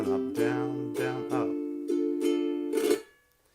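A ukulele is strummed in a simple down-and-up pattern, its rhythmic bright chord strokes ringing close and clear for a few seconds before fading.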